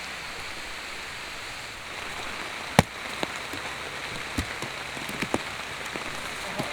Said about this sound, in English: And you can hear the rain.